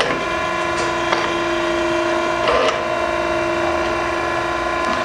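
An Okamoto 8 by 20 inch high-precision hydraulic surface grinder running with its table feeding back and forth, a steady loud mechanical hum with a constant whine and occasional faint clicks, no talking.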